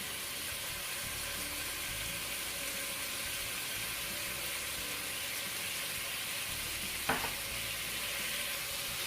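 Sesame oil sizzling in a frying pan, a steady soft hiss filling the whole stretch, with one brief clink near the end.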